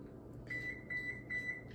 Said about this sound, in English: That beeping was my oven saying it is now preheated.